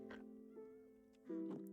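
A cat meows in the Minecraft video game, a couple of short tonal cries near the start and a louder one near the end over game music, with a voice talking between them.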